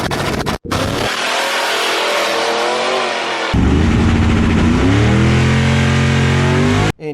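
A supercharged Hemi G-body drag car launching hard off the line: a loud, close engine roar with a brief cut, then a deep, heavy snarl whose pitch climbs steadily as the car pulls away.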